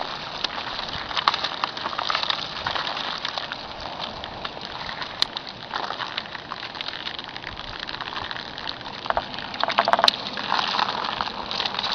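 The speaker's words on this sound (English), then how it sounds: "Let out the water, some water." Water gushes from a tube of a hurricane tarp being let out before its ends are tied off, a steady outdoor rushing and splashing with occasional clicks and bumps.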